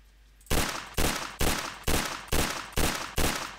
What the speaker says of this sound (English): Jesus, stop shooting me